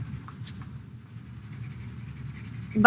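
A pencil scratches across paper, shading in small squares during a realistic drawing workshop, a close, steady soft scribbling that ends with a brief louder rustle.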